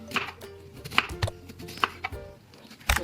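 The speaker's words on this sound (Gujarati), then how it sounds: "હવે આપણે આ ડુંગળીને બે ભાગ કરી નાખશું અને લાંબી સીરમાં કટ કરીશું" A knife chops an onion into long slices on a cutting board, a handful of sharp, close knocks with short pauses between them.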